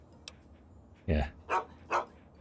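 A dog barks in the Fallout video game, three sharp barks spaced about half a second apart following a brief quiet spell, moderately close.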